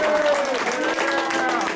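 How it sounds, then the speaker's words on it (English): A radio show audience applauds steadily for a featured guest, with crowd clapping filling the whole stretch and a voice audible over it. "Everybody clap for William Covington."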